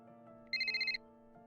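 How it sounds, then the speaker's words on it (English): A phone ringtone sounds once in a short, bright, warbling electronic burst, loud and close, above a steady background of soft sustained music tones. "My phone rang, again and again."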